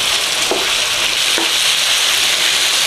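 Meat for kapsalon sizzles steadily in a hot pan as it browns, a dense even crackle with a couple of brief scraping stirs, close and loud with no voices.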